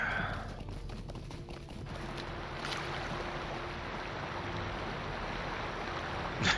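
Video game horse hooves clip-clop in a steady rhythm under a wash of ambient background noise, sustained and moderately loud throughout.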